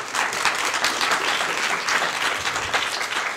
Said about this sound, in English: Let's give Dr. McAfee one more round of applause.